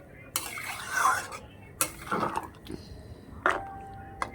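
Bean and shrimp curry is stirred in a pot with several distinct scraping strokes and metal clinks of the spoon against the pot, over a light bubbling sizzle.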